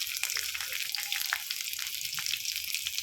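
Onions, green chilli and curry leaves sauté in hot oil for a green gram kurma, a close, steady crackling sizzle with light spatter throughout and no talk.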